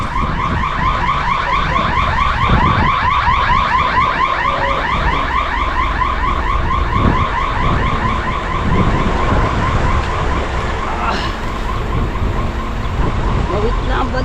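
A car alarm goes off loud and close during a shopping outing, its rapid warbling tone cycling steadily throughout, with traffic and faint voices in the background.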